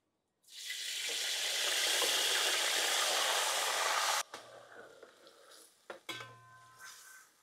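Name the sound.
marinated mutton added to hot oil, sizzling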